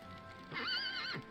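A horse whinnies once in the Dragon Quest 8 video game, a short, bright, wavering neigh standing alone over quiet background music.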